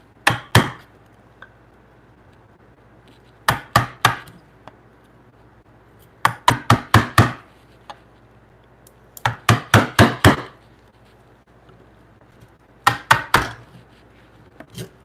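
A sharp chisel cuts a mortise in timber for a timber-frame bunk bed, sounding as crisp, close knocks in bursts of three to five with quiet pauses between them and no talking.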